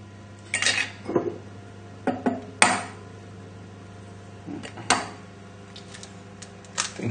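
Cracking eggs and separating yolks from whites by passing them between the broken shells, several sharp close taps and clicks with quiet gaps between them, no talking.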